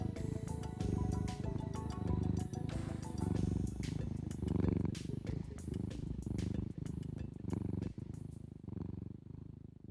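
Cat purring up close, a steady low rumbling purr with a regular breathing rhythm that continues unbroken for about ten seconds, with no talk over it.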